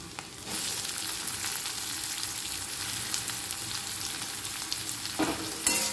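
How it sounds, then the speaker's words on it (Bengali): Onion drops into garlic already frying in hot oil and gets stirred, bringing a loud, steady sizzle with scraping strokes of a spoon against the pan and a sharp clatter near the end. "রসুনটা একটু হয়ে এলে এর মধ্যে আমি পেঁয়াজটা দেব।"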